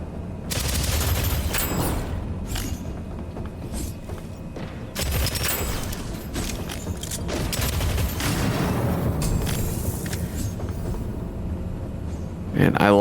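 Burst rifle fire in the video game Deadzone Rogue, with loud repeated bursts of shots and booms. Players talk over the dense, continuous gunfire.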